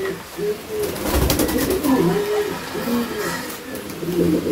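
A pair of high-quality Bondho-lej pigeons cooing repeatedly in close rhythmic warbles, fairly near, with wing rustles and soft background noise but no talk.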